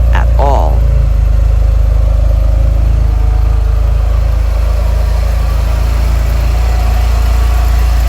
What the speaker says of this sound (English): Once you give it a sec to idle, it is not very loud at all.